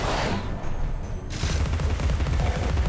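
A bomb explodes in the video game Alice: Madness Returns: one dense, booming blast that rolls on into a sustained crackling rumble, loud and close, with no talk over it.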